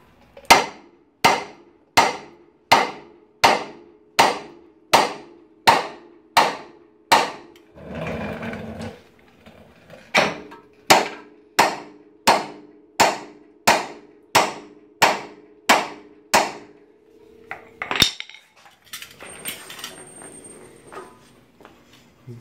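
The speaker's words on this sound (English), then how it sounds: "That's gonna need the hammer as well." Sharp hammer blows on metal knocking a ball joint loose on a Honda Civic, in a steady rhythm, about two dozen strikes in two runs with a short pause between, close and loud.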